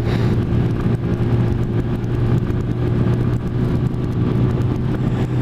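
A Lexmoto ZSX motorcycle engine hums steadily while riding, a loud continuous low drone with wind rush over it and no talking.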